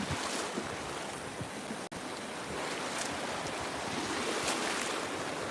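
Ocean surf rolls onto a beach on the Gulf of America, a continuous hiss of breaking waves with gusty wind buffeting the microphone and one brief dropout near the middle.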